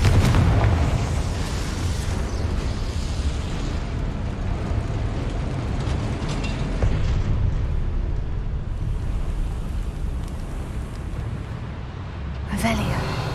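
A Confringo blasting curse erupts in the Hogwarts Legacy video game, a loud close explosion followed by a long roaring rumble of debris and noise, with a second sharp burst near the end.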